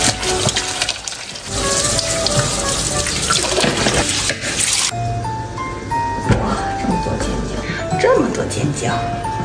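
Chili peppers being washed under a running kitchen tap: a steady, loud gush of water with splashing as the peppers are turned, then the flow changes and continues with clinking and handling noises, with a person talking over it.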